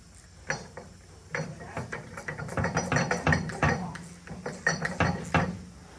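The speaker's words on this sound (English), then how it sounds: "we're going to use a 13mm wrench, and we're just going to take this nut right off the top" A 13mm wrench works a nut off the top of a BCS Power Ridger wheel assembly, giving a run of close metallic clicks, clanks and ratcheting taps in uneven bursts, with no talk over it.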